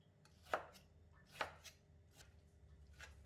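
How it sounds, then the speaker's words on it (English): Knife chopping kailan, egg and mustard greens on a board: two distinct firm chops followed by a few softer cuts, close and fairly quiet, with no talking. "Cut the kailans, egg and mustard green into smaller pieces."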